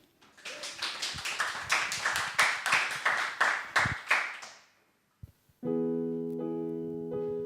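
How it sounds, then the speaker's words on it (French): A live studio audience claps for about four seconds in a dense, lively burst that swells and then fades out, followed by a short pause and then the entry of sustained tonal music. "On les applaudit, c'est parti."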